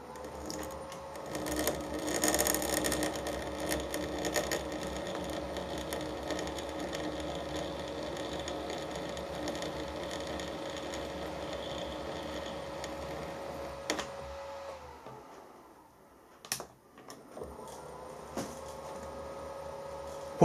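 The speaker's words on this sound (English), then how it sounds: "I'm going to power tap this in the milling machine. Put the machine into jog mode" A milling machine in jog mode power taps a hole in brass, its motor holding a steady close whine that drops away near the end, then a sharp knock, a brief quiet and the hum resuming.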